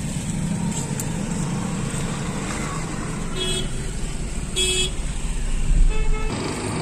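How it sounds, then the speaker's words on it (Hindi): Continuous traffic rumbles along a narrow, crowded town road in a tehsil area, with several short car horn toots sounding out of the steady engine noise nearby. "बहुत छोटा रास्ता है और देख सकते हो गाड़ी के ऊपर गाड़ी आ रही है"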